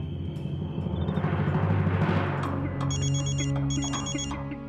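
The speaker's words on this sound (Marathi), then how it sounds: "पप्या, ह्यो उरावरचा सांडगा कशाला फोन करायलाय?" A telephone rings with bursts of electronic trilling over a busy, dramatic music background.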